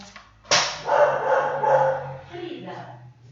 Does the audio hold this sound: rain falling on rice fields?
no